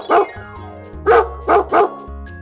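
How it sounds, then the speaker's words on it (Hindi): A domestic dog barks four times in sharp, separate bursts, the last three closer together, over a steady low musical backing. "तो सुनते हैं डॉग की वॉइस को"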